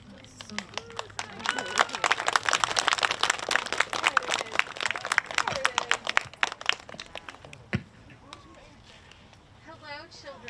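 Students clapping at a 7th grade awards ceremony, a dense scattered patter of hands with cheering voices mixed in, loud for several seconds and then thinning out to a few claps and chatter.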